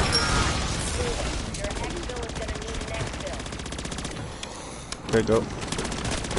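Gunfire in the zombies mode of the video game Modern Warfare 3, sustained rapid automatic shooting that thins out toward the end, with players talking over it.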